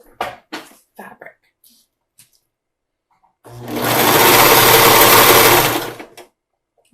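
A sewing machine running a 3-step zigzag stitch on super high-stretch fabric, a loud, steady motor whir lasting a few seconds, preceded by handling clicks and rustles.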